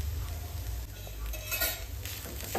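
A spoon scrapes and stirs a peda stuffing mixture in a pan, giving a continuous close scraping with light metallic clinks and a soft sizzle, and no voices.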